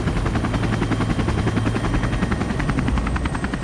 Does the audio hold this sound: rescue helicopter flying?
yes